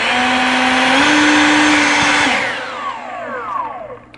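An EGO 530 battery-powered leaf blower whines close and loud, its electric fan pitch stepping upward before winding down as the motor slows.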